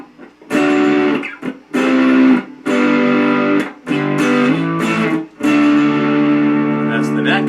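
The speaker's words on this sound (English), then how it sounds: "We'll put a little distortion on now." A Monoprice Indio Cali Classic electric guitar rings out through distortion, about five strummed chords or phrases separated by short gaps, each sustained and buzzing with a roomy echo, played alone without speech.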